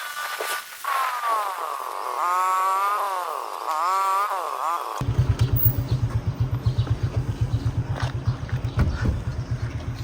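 A motorbike ride begins after a stretch of quieter ambience with harmonic tones; the engine then runs loud and close with a rapid, pulsing exhaust rhythm through the second half.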